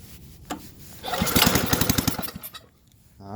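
Repaired snowblower engine with clean gas and a clean fuel bowl, choke out, coughing and catching into a short burst of rapid sputtering running, then dying back down, loud and close.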